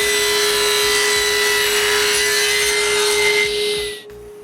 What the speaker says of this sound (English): Now I can cut all the other pieces to build the two racks.